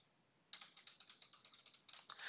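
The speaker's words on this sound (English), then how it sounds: "Now you can see I'm keep on typing on my keyboard" Fingers type on a computer keyboard in a quiet room, a quick run of close, crisp key clicks in an uneven rhythm, starting after a short silence and ending in a denser flurry.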